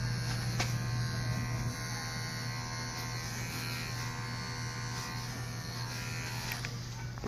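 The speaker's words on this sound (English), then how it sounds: "So I'm going to go ahead and shave the rest of the foot." Electric clippers shave a poodle's foot while grooming, a steady close buzzing drone that holds at an even level throughout with a constant low hum beneath.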